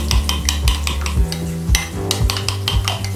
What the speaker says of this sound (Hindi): इस तरह से स्पून से ऐसे मिक्स कर लें,